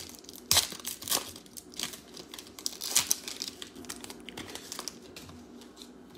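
Foil Donruss baseball card packs are ripped open up close, making sharp crinkling tears in quick bursts, followed by softer rustling of the wrappers.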